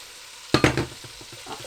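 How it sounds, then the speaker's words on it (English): A quick clatter of stirring as carrots and swede hit a hot pan of butter and dripping, followed by a light sizzle that fades quickly, close and brief. "I'm frying them off a little bit just to extract some of the sugars"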